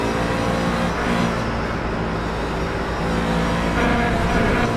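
Race cars at a Road America endurance race, a steady loud roar of engines and road noise running throughout with a slight swell near the end, no voices.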